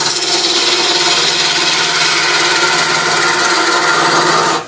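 A hollow wooden form spins on a wood lathe while a tool cleans up its underside, making a loud, continuous rough scraping hiss that holds steady for several seconds and then cuts off.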